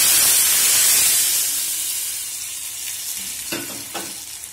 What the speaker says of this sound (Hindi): ये देखिए हमारा जो तड़का है वो रेडी हो गया है, अब हम इसे इसमें ऐड कर देंगे